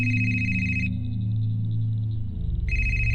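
A telephone rings with a steady electronic tone in two bursts, separated by a pause with a low hum underneath.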